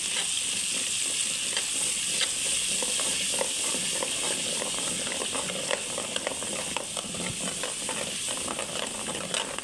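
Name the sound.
onion paste frying and being stirred in oil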